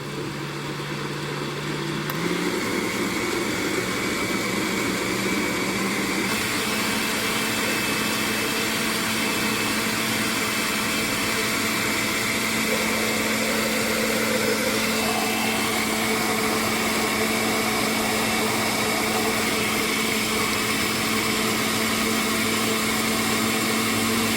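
A blender whirs steadily as it blends a fruit smoothie. The loud, continuous motor drone shifts up in speed twice early on, then holds an even, constant spin alone.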